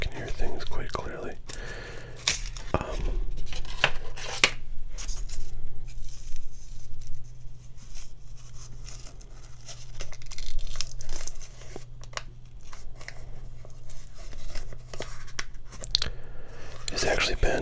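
Foil baseball card packs from a 2018 Bowman's Best hobby box torn and crinkled close to the mic, with steady rustling and tearing throughout under soft whispering and chewing.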